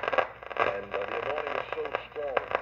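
A Philips radio tuned to shortwave hisses and crackles with static while a faint broadcast voice warbles through the noise, fading in and out over the crackling.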